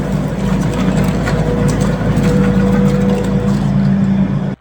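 A skid steer's heavy diesel engine rumbles steadily nearby while breaking down rock, soil and plant enclosures, holding a deep, loud drone before cutting off abruptly at the end.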